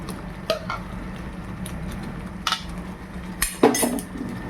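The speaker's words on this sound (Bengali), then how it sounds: "দিয়ে ঢাকনাটা বন্ধ করে দেবো" A metal lid set down on a pan of palak paneer, producing a couple of close clanks among lighter utensil clinks over a low kitchen hum, with no talking.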